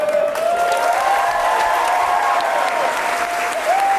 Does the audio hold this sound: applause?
yes